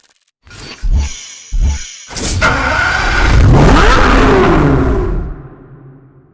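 A Chevrolet Corvette ZR1 with a supercharged V8 in the video game Need for Speed Hot Pursuit Remastered blips its engine twice in short bursts, then surges into a long, loud climbing rev that fades away at the end.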